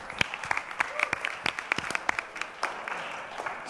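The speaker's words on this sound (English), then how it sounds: "Round of applause for the big dog" Audience applause at an arts and entertainment industry forum, a burst of brisk, uneven clapping from a room of people that swells briefly and then thins toward the end.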